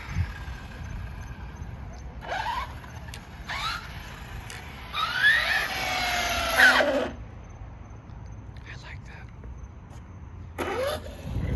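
A Mamba Monster X 6s 1650kv brushless-motor RC car drives in bursts, its high electric whine rising and falling with throttle, loudest midway, over steady background noise.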